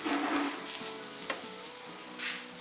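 Curry leaves crackle and sizzle briefly in hot oil in a pan, a soft frying hiss with a few sharp pops and a stirring clatter, while a Thalassery kalmas snack is being made.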